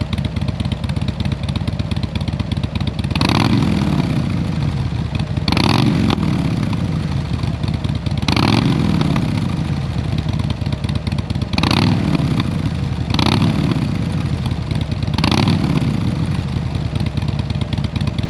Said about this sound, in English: Let's just give it a bit of a rev just so that you get a sense of what it sounds like.